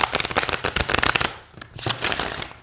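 Rapid riffle shuffling of stiff, thick, glossy tarot cards, a quick flurry of flapping clicks, a brief pause, then a second burst of shuffling, close and clear.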